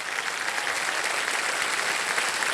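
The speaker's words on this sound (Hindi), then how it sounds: "और तालियां बजती रहे" Studio audience on the Hindi quiz show Kaun Banega Crorepati applauds a contestant, a thick, continuous roar of clapping that stays loud and even throughout.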